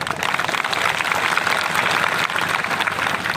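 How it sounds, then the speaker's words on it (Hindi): A rally crowd at a tribal protest outside a district office applauds the women, dense continuous clapping from many hands filling the space, loud and steady throughout. "तालियां।"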